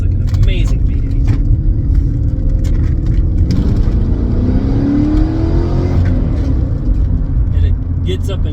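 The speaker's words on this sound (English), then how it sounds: "with a little bit of exhaust work, it sounds like an amazing V8" A 1986 Porsche 928 V8 with modified exhaust revs loudly and close, its deep engine note climbing and falling in a steady, continuous drone.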